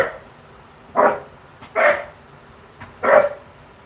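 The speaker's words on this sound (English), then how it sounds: "Other than my dogs barking." Dogs bark indoors in three separate loud barks spaced about a second apart, each short and sharp, over a quiet background.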